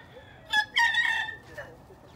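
Roosters crow and chickens cluck among the farm animals, one short call followed by a longer drawn-out crow, close and fairly loud, with a quieter call trailing after.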